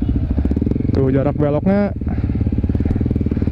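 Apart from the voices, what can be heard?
Yamaha WR155 supermoto motorcycle riding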